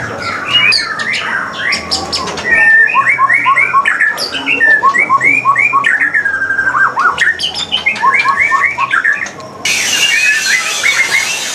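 A caged white-rumped shama (murai batu) calls repeatedly and loudly up close, a busy stream of bright chirps, whistles and squawky notes with barely a pause.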